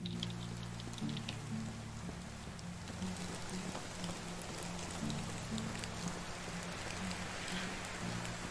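Loud rain pouring in a medieval village survival game, a dense continuous patter of drops striking surfaces, steady and close with a low droning music bed underneath and no speech.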